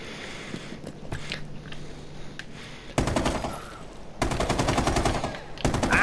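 Toy guns fire in a close-range one-on-one game, rapid bursts of clicking and rattling shots in several long strings, with a quieter stretch of scattered pops and thuds before them.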